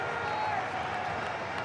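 Cricket crowd at an Australia versus Sri Lanka one-day international, a steady broad roar of cheering and applause from a large stadium audience, continuous and fairly distant throughout.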